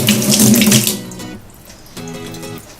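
Water gushes loudly from a tap, then the flow drops briefly and resumes more softly, splashing steadily into a basin as a makeup brush is wetted.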